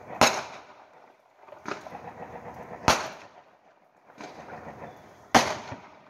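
Three sharp, loud bangs spaced a few seconds apart outdoors at New Year in Albuquerque, New Mexico, each followed by lingering crackling and rumbling echoes, like gunfire or fireworks.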